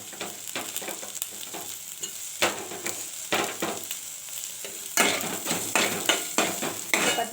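Onions and coconut sauté in a pan for chutney, a continuous sizzle broken by repeated scraping stirs of a spoon against the pan, some louder clatters later, close and without any talk.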